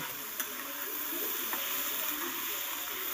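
Ivy gourd (kudri) frying in a pan with salt, turmeric and spices, giving a steady broadband sizzle throughout with a few faint scraping stirs, close and moderately loud, no voices.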